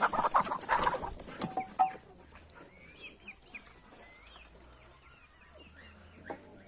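Chickens cluck and squawk nearby on a farm with ducks, busiest at first, then thin out to sparse calls and a few duck quacks against quiet farmyard background.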